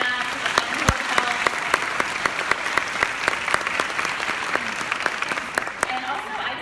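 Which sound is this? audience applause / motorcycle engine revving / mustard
audience applause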